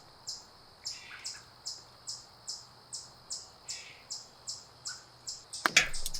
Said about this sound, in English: I think a bird is really upset that I'm outside right now because they are just going ham with the squawking